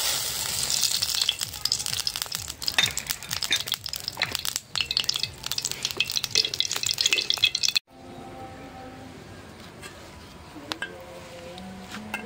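Hot oil crackles and sizzles loudly in a heated kadai readied for frying tilapia, a dense, steady spatter for several seconds that then drops to a much quieter, softer hiss.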